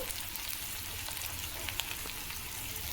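Mutton fry sizzling steadily in a pan, browned and nearly done, a dense continuous hiss with small crackles and pops throughout, close and moderately loud with no talking.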